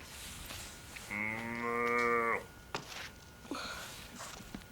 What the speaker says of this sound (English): Cows say moo.